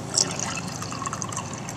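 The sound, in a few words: pouring water from a pitcher into a Keurig B130 coffee maker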